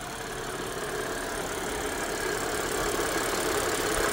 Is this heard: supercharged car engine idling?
yes